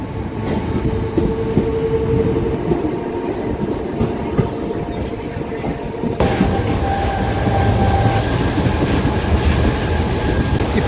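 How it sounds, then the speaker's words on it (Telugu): A DEMU passenger train runs on rails between Nandyala and Renigunta, with a loud, continuous rumble and clattering wheels heard from inside the carriage. The noise swells louder near the middle. "ఏ సౌండ్లు వచ్చేస్తున్నాయి బడబడ"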